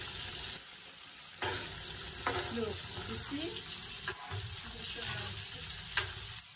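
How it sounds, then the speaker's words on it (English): Hot oil sizzles steadily as fish fries, with occasional clatters and stirring; a person speaks briefly over the crackle. "that's the technique for frying fish"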